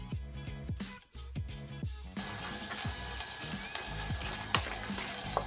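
Onion frying in a little oil in a sufuria while cooking breadcrumb-coated chicken, a soft close sizzle with repeated stirring knocks and scrapes, the hiss rising louder once the onion hits the oil.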